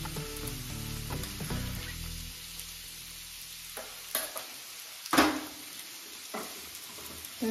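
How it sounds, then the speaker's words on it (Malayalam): Ingredients, including onion, sautéed in a pan for a traditional Kerala quail-egg puttu, with a steady sizzle, some stirring scrapes and a few sharp utensil clinks toward the end, close and moderate with no talk. "നന്നായിട്ടൊന്ന് മൂത്ത് കിട്ടുന്ന വരെ അത് മൂക്കുക എന്ന് വെച്ച് കഴിഞ്ഞാൽ നല്ല പോലെ ഒന്ന് വഴറ്റി കിട്ടിയാൽ മതി."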